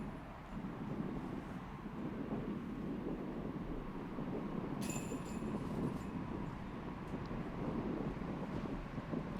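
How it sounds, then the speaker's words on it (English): Wind blows steadily outdoors on a disc golf course near an overpass, a low, continuous rumble and buffeting against the microphone with a faint, brief hiss midway. "Little wind out there coming off the overpass."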